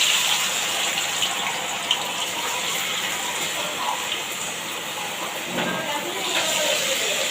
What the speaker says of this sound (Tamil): நம்ம மீனை ஒன்று ஒன்றா போட்டு பொரிச்சு எடுத்துக்கலாங்க